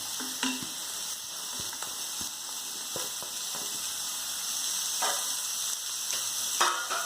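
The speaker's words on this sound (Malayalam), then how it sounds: "ഇതൊന്ന് വഴറ്റി എടുക്കട്ടെ" Onion and papaya sizzle steadily in a hot pan with a constant hiss, broken by light clicks and scrapes of stirring, close up and moderately quiet.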